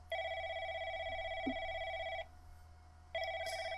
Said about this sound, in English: So it's starting to ring.